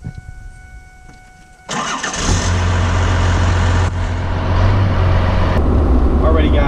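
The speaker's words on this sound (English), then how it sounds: "here's a cold startup on the truck" A diesel engine cold-starts in a Cummins-swapped 1999 Ford F-250 truck, cranking briefly before catching with a loud burst and settling into a steady, rumbling idle close by.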